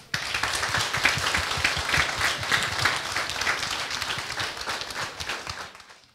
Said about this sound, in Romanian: Vă rog frumos să-i aplaudați.